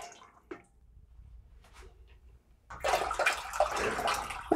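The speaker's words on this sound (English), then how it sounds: "go ahead and start filling up your pot." Water runs into a pot being filled to sanitize wine bottles, starting after a quiet stretch of faint clinks and continuing as a steady, fairly close splashing stream.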